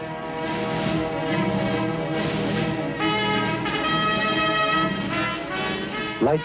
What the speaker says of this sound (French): Des avions légers de reconnaissance localisent les cibles pour les canons mobiles autopropulsés.